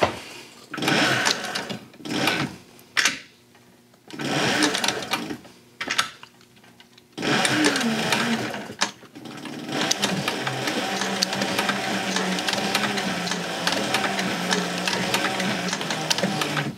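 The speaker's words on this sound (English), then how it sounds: "Get a few stitches in and then you want to peek in there and make sure sewing where you want it to sew." A sewing machine stitches a kidney bean purse, first in several short stop-and-start bursts, then in a steady continuous run close to the mic.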